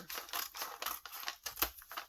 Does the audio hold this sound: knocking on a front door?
no